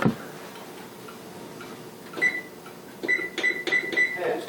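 An oven timer is set in a home kitchen, giving a run of short, bright ticks and beeps, a few at first and then a faster cluster near the end, fairly close, with no voice.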